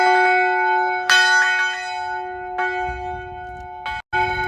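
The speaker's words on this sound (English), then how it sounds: "Is this a functioning bell right here? Like, can I ring this?" A large bell at a football stadium is struck several times, each loud clang ringing out with a long sustained tone, the strikes close by and unevenly spaced.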